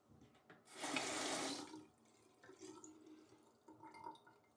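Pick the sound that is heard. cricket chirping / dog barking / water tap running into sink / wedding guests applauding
water tap running into sink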